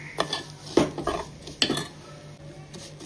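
A spoon scrapes and clinks against a pan while ingredients are stirred and sautéed for saffron rice kheer, giving a few sharp metallic knocks spaced irregularly over a quiet background.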